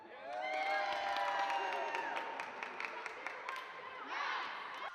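Girls' high school basketball team, the Miramonte Matadors, shouting a loud group cheer after a win, with whoops and overlapping young voices in a sustained burst that swells again near the end.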